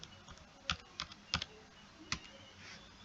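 Keystrokes on a computer keyboard while entering data in Tally accounting software, a few quiet separate clicks spaced unevenly with pauses between them and no voices.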